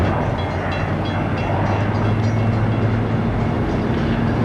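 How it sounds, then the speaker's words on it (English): A San Diego trolley rumbles steadily as it approaches a depot, a loud continuous low rolling drone of rail wheels and motor, close by and without talk. "you'll see a trolley coming to this direction here, but it's going to be stopping at this depot"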